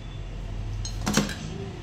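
A metal lid set onto a pot of chicken dum biryani gives one short clink over steady low kitchen hum, fairly quiet and close.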